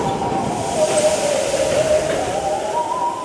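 Animated railway flatbed wagons roll past at misty docks, with a continuous hissing rumble and a wavering, eerie tone that swells slightly. The sound is steady and fairly loud, with no voices.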